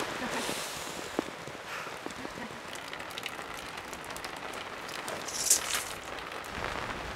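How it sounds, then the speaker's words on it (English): Heavy rain pouring down outdoors during a community barn raising in Nashville, a dense steady hiss of drops on surfaces with scattered louder splatters, constant and close throughout. "It's a lot of rain."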